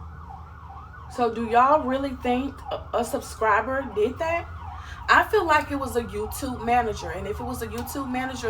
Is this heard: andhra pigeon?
no